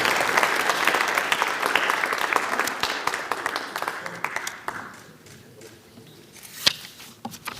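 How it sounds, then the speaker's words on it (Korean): Crowd applause at a Korean political party meeting, dense steady clapping for about five seconds before tapering off to a few scattered claps. "한번 박수로 응원해 주시기 바랍니다"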